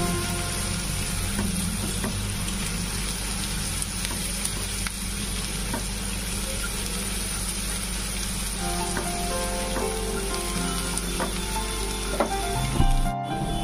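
Sliced onion and curry leaves fry in oil in a pan, a constant close sizzle with crackles and spatula stirring, a faint tonal hum underneath, ending in a short sharp clatter; nobody speaks.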